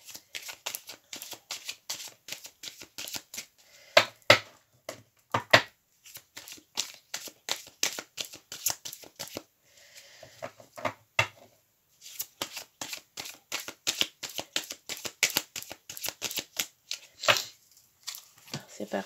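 Tarot cards are riffled and shuffled by hand in rapid, crisp flicking bursts, close and fairly quiet, repeating over and over with short pauses between runs.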